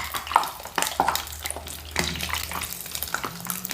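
Lumpia egg rolls frying in a pan, with sizzling and bursts of stirring and scraping, close and fairly loud over a low steady hum.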